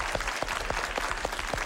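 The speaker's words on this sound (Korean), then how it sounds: "두 분에게 박수 한번 주십시오" A television studio audience claps for two guests on a variety show, a close, full burst of hands with soft repeated thuds and a few vocal whoops mixed in, steady for the whole moment.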